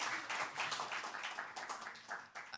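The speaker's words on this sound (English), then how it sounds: "Give yourselves a round of applause for coming out in the winter." Audience applause at a winter poetry night, a steady wash of many hands clapping from a moderately distant crowd, sustained with no voices over it.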